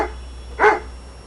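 A single short, loud bark from a house dog, close by, over a steady low background hum with no talk.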